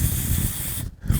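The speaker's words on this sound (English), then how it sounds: "spray her down real good with a carburetor cleaner" A continuous loud hiss of carburetor cleaner spray from close by, aimed at a STIHL MS271 chainsaw carburetor, briefly cutting out near the end before resuming.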